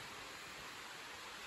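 Steady rain falls on a tarp during a mountain lightning storm, a constant soft hiss of drops with no distinct thunder, fairly faint and even throughout the short stretch.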